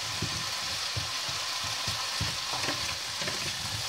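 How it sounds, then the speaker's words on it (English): Chicken sears in a hot pan for chicken afritada with a constant, dense sizzle and irregular soft knocks of stirring, close up and steady, with no voices. "Just let them sear."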